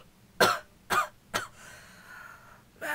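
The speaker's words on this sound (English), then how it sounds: "I've just tried everything for this terrible cough" A person with a bad cold coughs three times in quick succession, each a loud close dry burst, followed by breathy wheezing and another cough starting at the end.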